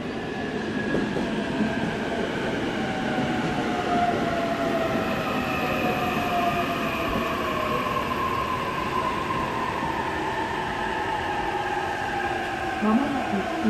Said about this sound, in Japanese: まもなく4番線に回送列車が参ります